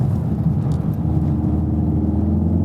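A VW Golf 7 R engine drones steadily at mid revs under throttle as the car slides sideways on an icy circle, a continuous close rumble with no talk.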